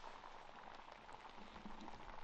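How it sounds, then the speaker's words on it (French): Steady rain patters on the fabric of a tent pitched in a remote Savoie valley, a soft, even hiss of drops heard from inside, faint and continuous with no voices. "je pense que tu dois pouvoir entendre qu'il pleut dehors"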